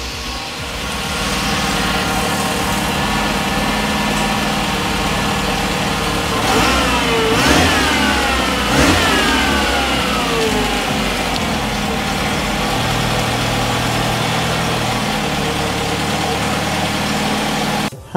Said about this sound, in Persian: الان با هم گاز بدیم ببینیم چجوری میشه